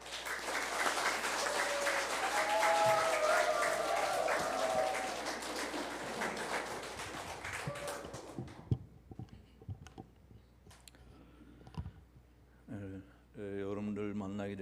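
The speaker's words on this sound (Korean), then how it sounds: "큰 박수로 우리 목사님을 모시겠습니다." Warm, sustained congregation applause at a Sunday church service in Tagaytay, Philippines welcomes the pastor, filling the first several seconds before fading into scattered claps, room noise and a voice beginning to speak.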